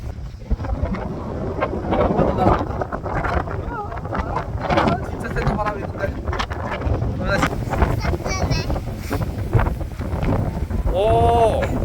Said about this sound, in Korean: 바람이 너무 세서 날아갈 것 같아?